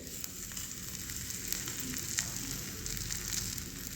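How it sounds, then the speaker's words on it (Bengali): Thick potato slices fry in hot oil, giving a constant sizzle with small crackles and pops, heard close and alone. "তেল দিয়ে ভালো করে ভাজা হয়ে গেছে এবার আর একটা দিয়ে দেবো"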